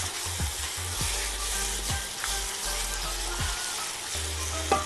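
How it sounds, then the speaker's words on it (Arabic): Chopped tomatoes sauté in a pan for a lentil dip, giving a continuous loud sizzle and crackle with a low hum underneath and no talking. "هجيب الطماطم واضيفها عليهم تتشوح هي كمان وتنزل بقى كل ميتها"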